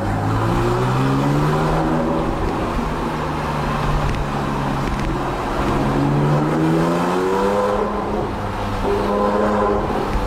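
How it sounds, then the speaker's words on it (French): A Porsche 997 GTS with a sport exhaust and valves drones steadily while driving through a village between houses, engine pitch rising and falling as it revs, loud and continuous with a roadside rumble. "les maisons permettent vraiment de bien entendre l'échappement"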